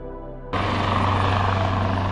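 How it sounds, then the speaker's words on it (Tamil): A helicopter lifts off close by at Expo 2020 near the Kingdom of Bahrain pavilion, its loud rotor and engine roar starting abruptly after a moment of quieter background and holding steady and dense. "ஸோ இங்கே பக்கத்தில் இருந்து ஒரு ஹெலிகாப்டர் வந்து இப்போ லான்ச் ஆகுது."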